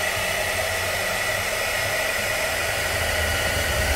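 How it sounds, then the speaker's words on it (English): A hair dryer blows steadily and loudly, close up, drying a cork coaster during a craft project, a constant hiss-like roar with no pauses. "And then use your hairdryer just to dry that."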